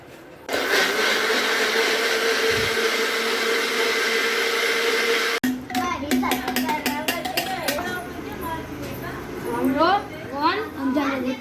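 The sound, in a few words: blender blending soup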